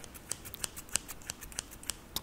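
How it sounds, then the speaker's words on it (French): Left-handed scissors are handled up close, giving a regular train of small, crisp metallic snips and clicks, evenly spaced and fairly quiet against a soft background hiss, with no talking. "j'ai ma paire de ciseaux pour gaucher puisque je suis gauchère"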